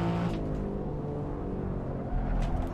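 Alfa Romeo Giulia Quadrifoglio engine pulling hard under full throttle on the Nordschleife, a loud, steady in-car drone with layered harmonics that holds level throughout, briefly swelling near the end.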